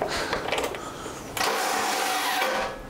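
A BMW E30 barn find, freshly refuelled, cranks on its starter motor with a busy, whirring mechanical churn. The sound runs continuously and close by, then grows louder and denser partway through.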